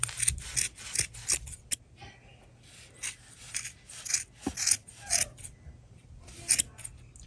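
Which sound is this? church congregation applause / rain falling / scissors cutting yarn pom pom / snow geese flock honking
scissors cutting yarn pom pom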